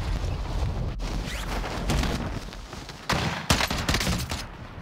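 Bursts of gunfire in the video game Call of Duty Warzone, dense and loud throughout, with sharper close shots near the end over steady background noise.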